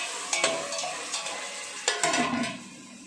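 Onions being stirred and sautéed in a pan for chicken biryani, a steady close sizzle with scraping spoon strokes around half a second and two seconds in, no talking.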